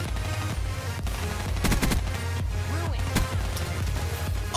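Rapid gunfire in Black Ops 3 multiplayer, dense bursts of shots over a booming game soundtrack, loud and continuous across the short stretch.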